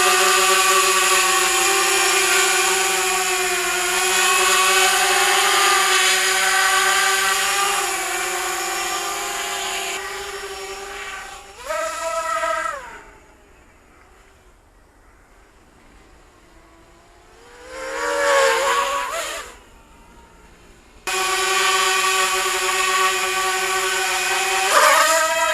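A wooden FPV quadcopter on its maiden flight gives a loud, high propeller buzz that rises and falls with the throttle. It drops away almost to silence in the middle, then returns in short bursts before a final sustained run.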